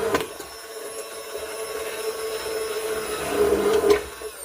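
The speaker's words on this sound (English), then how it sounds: "So I'm going to blend some of these." Blender whirring through frozen strawberries for jam, a steady loud motor drone lasting several seconds that swells slightly near the end before cutting off.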